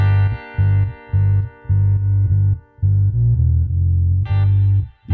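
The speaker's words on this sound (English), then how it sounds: "This thing is going to be switching between having an echo on and just a sustained strum." An electric guitar line in a pop production, played as sustained strummed chords in a regular rhythm while an echo effect switches on and off, loud and distorted, with a brighter burst near the end.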